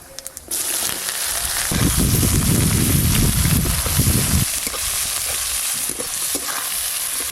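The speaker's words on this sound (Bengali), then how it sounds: "পেঁয়াজ কুচিগুলো একটু ভালো করে ভাজা ভাজা হয়ে গেছে" Chopped onions frying in hot oil over whole cumin, bay leaf and dried chilli for a jackfruit curry, a loud close sizzle with scraping stirs that swells for a few seconds and then settles back to a steady hiss.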